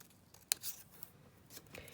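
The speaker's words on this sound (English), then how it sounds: "let me just cut this down" Scissors snipping through paper card, a single crisp close cut followed by a few lighter rustles and snips, quiet and alone.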